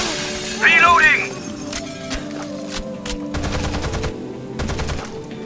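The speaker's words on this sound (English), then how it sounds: "Under heavy fire!" Heavy gunfire in Rainbow Six Vegas, a run of sharp shots and bursts starting with a loud shattering burst, then steady rapid firing with voices calling out over it.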